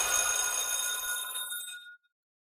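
A bell rings in a continuous metallic trill, like an old telephone, then cuts off abruptly into silence.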